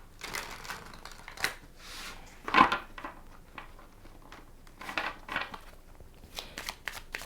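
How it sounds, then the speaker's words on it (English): Tarot cards being shuffled by hand in a quiet room, giving a run of soft papery riffles and flicks with one sharper slap near the middle, close and fairly faint. "No, that's too many cards, so I'll just shuffle again."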